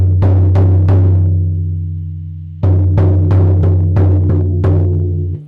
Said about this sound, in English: hitting the drum 7 times for each of the 7 directions